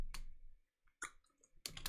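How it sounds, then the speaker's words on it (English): Quick clusters of computer keyboard keystrokes from live coding, a few rapid taps separated by short pauses, quiet and close with no speech. "Typing a little fast there."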